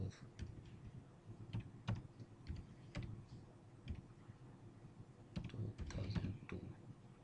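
Quick, uneven keystrokes clack on a computer keyboard, close and fairly quiet, in bursts with short pauses between them.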